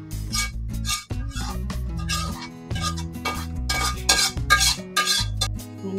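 A utensil scrapes and stirs in a pot of crab noodle soup broth made with shrimp paste, skimming off foam: steady close clinking and scraping with bubbling, continuous throughout.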